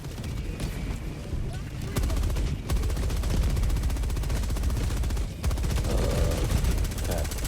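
Gunfire in Helldivers 2 during a battle against the Illuminate, with steady rapid shooting as a teammate takes down ships, heavy booms and dense chaotic battle noise, while a player talks over it.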